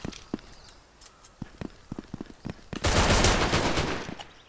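Video game gunfire crackles in a quick, uneven burst of sharp shots, followed by a louder sustained roar of noise at the end.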